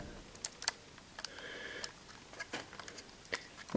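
A plastic MegaKabuterimon Digimon figure is folded and compressed, giving a scattered series of small, sharp clicks and ratcheting snaps, close and quiet, with short pauses between them.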